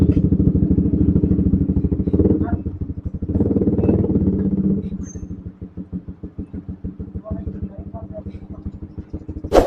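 A Suzuki Satria FU150 motorcycle engine revs and putters at a group Sunday ride in Makassar, loud and close with a rapid pulsing beat that swells and eases, while people talk over it.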